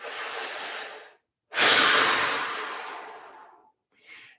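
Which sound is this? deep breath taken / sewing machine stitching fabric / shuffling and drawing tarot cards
deep breath taken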